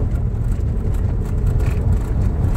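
A car drives along a gravel country road near Vernon, Oklahoma, a steady close rumble of engine and tires crunching over loose stones, unbroken for a few seconds.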